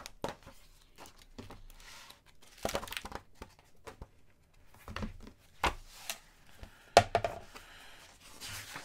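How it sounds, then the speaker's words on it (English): Old glue crackling as the spine of an omnibus comic book is stretched open, faint scattered crinkles and sharp little cracks in irregular bursts, close and quiet. "Sounds like this book can use a good spine stretch, though. Here, a lot of glue crackling."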